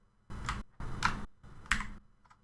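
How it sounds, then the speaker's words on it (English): Computer keys pressed on a keyboard in three distinct bursts of clicking, close and crisp against a quiet background, with no talking. "hold down the Control plus Shift key and then press R key on your keyboard"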